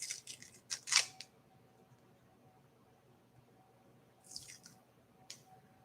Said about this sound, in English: So I'm going to peel the casing off